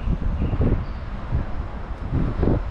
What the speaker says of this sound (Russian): Ветер немножко прохладненький